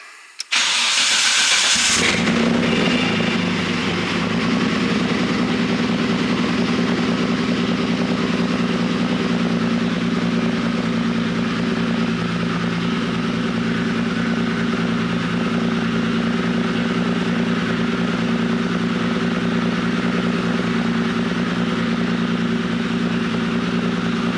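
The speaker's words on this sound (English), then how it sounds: "I'll start it up and just let you guys, I guess, listen to it, show you how messed up my engine is" A modified Nissan Silvia engine in need of tuning cranks and catches, then settles into a loud, rough, steady idle with a deep rumble that continues without a break.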